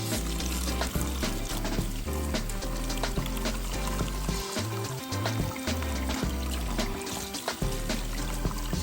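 Cold water runs and splashes steadily from a tap, with irregular sloshing and trickling as dried fish is rinsed under the stream.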